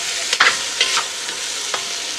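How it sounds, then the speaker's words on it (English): Vegetables tumbled into a hot Dutch oven on a cabin stove, giving a few sharp splashing clatters with brief sizzle bursts over a steady frying hiss, fairly close. "Now we're going to start throwing in veggies."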